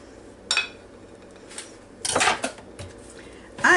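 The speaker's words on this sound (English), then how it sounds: "Let me get a knife and we will cut right into it." A knife and fork clink and scrape against a plate while cutting into a homemade salmon patty, a few short sharp taps and scrapes close by in a quiet kitchen.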